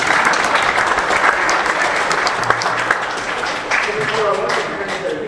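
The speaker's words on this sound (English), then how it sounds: "You can clap for this." Concert audience applause for student musicians at a school performance, loud, dense clapping from the start that eases slightly near the end as voices begin to emerge.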